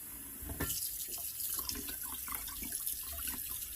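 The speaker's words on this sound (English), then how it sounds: "there's a lot of whey that's going to drain out of there" Goat milk whey drains steadily out of a large cheese pot in a continuous splashing trickle, moderately close and unbroken, with no voices.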